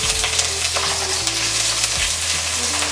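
Chopped garlic and crushed onion fry in hot oil, giving a dense, steady hiss and crackle that stays loud and close throughout, with no one speaking.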